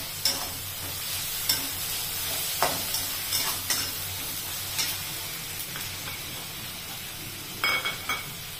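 Chopped tomatoes sautéing in a pan keep up a steady sizzle, broken by sharp, irregular scrapes and knocks of a spoon stirring them.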